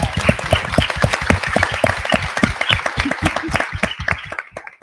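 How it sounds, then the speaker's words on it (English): Audience applause at a film Q&A, a dense round of many hands clapping that fills the clip and tapers off near the end, with no talk over it. "So let's give them all a round of applause"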